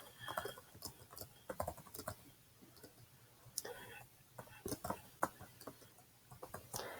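Computer keyboard typing in short irregular bursts of light clicks, close and moderately loud, with brief pauses between runs of keystrokes.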